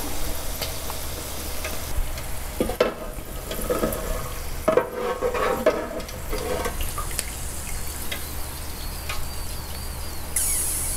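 Shrimp frying in hot oil at about 180 degrees, a steady loud sizzle with sharp spattering pops bursting out, stirring scrapes now and then, and no talk.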